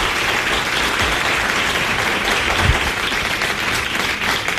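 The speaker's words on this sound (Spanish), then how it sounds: "Pido un aplauso para el Salvador Frisero" A studio audience claps for guest Salvador Freixedo on a Spanish talk show, dense continuous applause at fairly close range, loud and even from start to finish.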